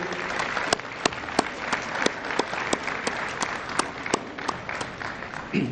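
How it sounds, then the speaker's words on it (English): Audience applause at a hall of fame ceremony honoring a committee, a dense, sustained patter of many hands with a few louder individual claps standing out, continuous and alone. "could you please give a round of applause for the WTAAA committee?"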